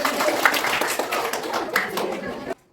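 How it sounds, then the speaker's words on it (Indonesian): A school class claps hands together in a steady patter of overlapping claps, close and lively, ending abruptly. "Oke, tepuk tangan."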